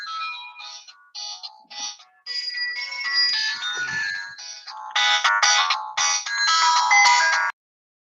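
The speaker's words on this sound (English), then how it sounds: "there was a phone call coming in" An incoming-call ringtone plays a bright electronic melody, starting with short separated beeps and building into a louder, fuller looping tune before stopping abruptly.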